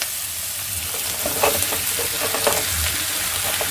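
Taro stolons (kochur loti) cooking with ground cumin and spices sizzle loudly and steadily in a pan, with soft intermittent stirring scrapes and taps over the continuous frying hiss.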